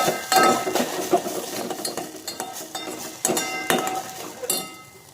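Egg being stirred in a pan for baby egg rice, a steady run of close metal spoon scrapes and clinks against the pan with sharper knocks throughout, no talking.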